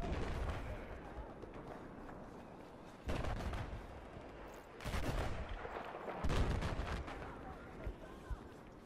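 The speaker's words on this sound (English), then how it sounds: "There's an LAV just shooting at us now." An LAV fires in Battlefield 4 amid dense, continuous gunfire and heavy booms, with loud bursts swelling and fading over a rumbling battlefield background, and speech mixed in.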